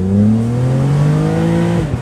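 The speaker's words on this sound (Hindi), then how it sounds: "तो ये मैं रेव कर रहा हूँ थोड़ा सा, ज़्यादा नहीं" A second-hand BMW sports car engine revving a little on the road, a loud, steady rising drone that climbs smoothly in pitch and then drops back near the end.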